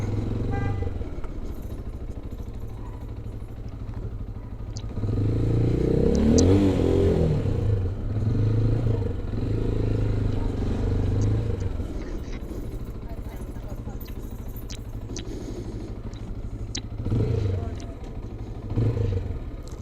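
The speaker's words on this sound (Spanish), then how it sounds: "Sí, la moto está bárbara." A ride-hailing motorcycle carries a rider and passenger, its engine humming and rising in pitch beneath steady conversation between the two people throughout.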